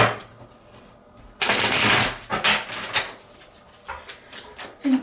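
Tarot de la Nuit cards being shuffled: a loud, dense riffle burst followed by several shorter flicking and sliding shuffles, close up with no talking.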